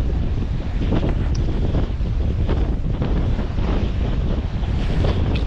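Steady rush of wind and surging sea swell around a moving sailboat between Belle-Île and Houat, France, continuous and loud, with wind buffeting the microphone throughout.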